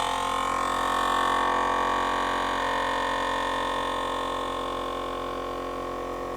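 A VEVOR VS5500 vacuum sealer pulls air from a bag with a steady, loud motor hum and whine whose tone shifts slightly partway through, continuing evenly without any voices.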